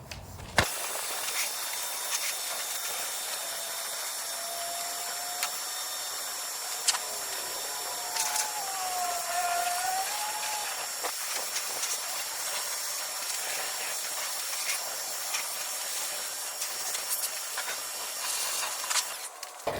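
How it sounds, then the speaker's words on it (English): Water hose spraying to rinse soap off an RV surface, a steady hissing rush of water close by with occasional clicks and small pitch shifts as the spray moves, no talking. "Now it's time to rinse the surface and get all that soap off, and all that dirt is gonna run off."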